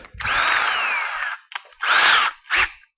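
A power drill fitted with Viper drill bits, made for wood and metal, whining loudly and up close in a workshop, one long burst and then two shorter ones with brief pauses between them.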